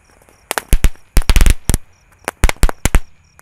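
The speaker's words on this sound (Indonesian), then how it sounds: "Kita nyalakan malam ini 3 sekaligus mercon tank." Mercon tank firecrackers set off at night, a rapid series of sharp, loud bangs in irregular clusters, several close together then a few spaced pops, with no voices.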